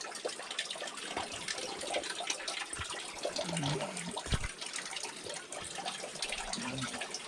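Creek water runs continuously beneath the wooden floor of an old log cabin in a mountain valley, a steady broadband rush with a few soft gurgles standing out near the middle.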